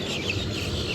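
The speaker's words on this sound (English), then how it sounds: "all the birds are going nuts." Birds call and chatter near a campsite in Florida, a busy noisy mix of clucking and squawking voices layered over outdoor background, moderately loud and continuous.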